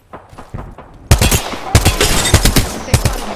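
Loud, rapid bursts of automatic and single-shot gunfire in a battle royale shooter, sharp cracks stacking into a dense fusillade after a quieter opening with a few scattered distant shots.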